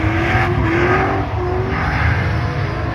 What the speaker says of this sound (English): Travis Pastrana behind the wheel of the Brap.